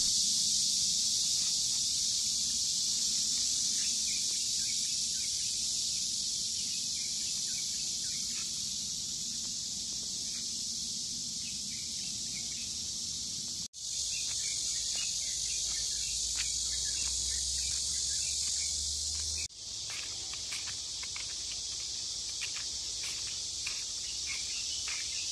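Cicadas droning outdoors in summer in Taiwan, a continuous high, shrill buzzing chorus that holds steady throughout with faint rustling beneath.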